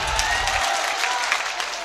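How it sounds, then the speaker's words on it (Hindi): Applause at an All India Mushaira poetry gathering in Biswan, a steady wash of crowd clapping that stays loud throughout the short stretch, with a low rumble at the start. "बार प्रशासन के लिए जोरदार तालियां बजा दीजिए।"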